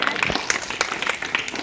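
An audience claps to welcome a guest onto the stage at a village birthday celebration function, a steady patter of many hands at moderate distance with a voice briefly over it.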